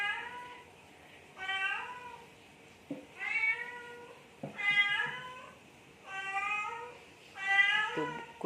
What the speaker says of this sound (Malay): Sudah makan, tapi bila dia nampak kita, dia akan berbunyi.